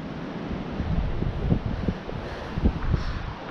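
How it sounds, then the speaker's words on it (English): Gusty wind on the coast near Kettleness buffets the microphone, a low rumbling roar with soft bursts, steady and close with no voices. "Quite windy today, but the sun's out."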